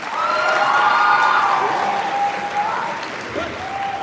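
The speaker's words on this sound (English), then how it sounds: "Let's practice that clap when somebody just finished." An audience at a Poetry Out Loud recitation event practices its applause, giving a sustained burst of loud, dense clapping that swells, then gradually eases off over a few seconds.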